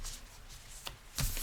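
Tarot cards being shuffled by hand, giving soft papery riffles and slides with a brighter, louder flurry near the end, close and without talk.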